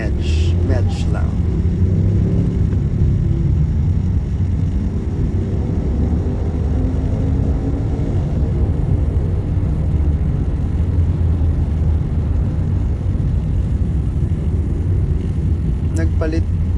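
Steady rumble of moderate road traffic heard from inside a moving car, a continuous loud low drone of engine and tire noise with a brief clatter near the start and end.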